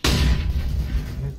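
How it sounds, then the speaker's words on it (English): A flashbang grenade goes off in CS:GO as a single sharp, loud bang close by. A short rumbling decay follows. "Throw in the flashbang!"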